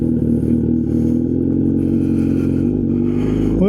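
A Kawasaki Z900RS motorcycle fitted with an unbaffled Wirus Win slip-on exhaust revs close by on the road, with a loud, harmonic engine note that shifts pitch as it accelerates.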